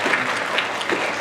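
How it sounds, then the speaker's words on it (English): Brief burst of steady applause from a panel audience at a Women in STEM event, dense clapping throughout with no pause. "So, round of applause."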